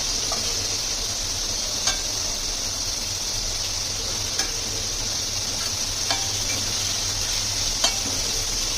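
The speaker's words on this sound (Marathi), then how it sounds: "पॅन गरम होते तोपर्यंत मी हे चिकन पण हलवून घेते." Chicken for curry stirred in a hot pan, a steady low sizzle with a faint high hiss and occasional sharp scrapes and ticks of the utensil, close up with no voices.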